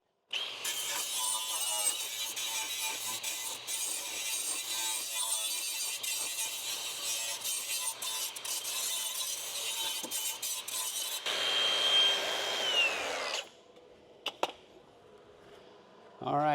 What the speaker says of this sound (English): since this is right here and I've got my flap wheel out, I'm gonna trim this edge down